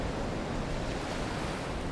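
Ocean surf washes steadily onto an open sandy beach where turtle hatchlings head for the water, a loud, continuous, even rush of breaking waves with some wind noise and no voices.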